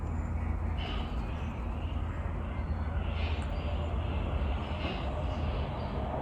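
A train rumbles past at a distance behind an outdoor Pilates class, a steady low roar that holds for several seconds without talk over it.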